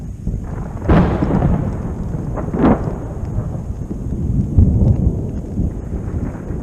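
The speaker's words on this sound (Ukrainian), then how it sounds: "Отакий у мене сьогодні грозовий контент." Thunder rumbles through a Balkan thunderstorm, with a couple of sharp nearby cracks rolling into low, continuous rumble, heard loud and alone without speech.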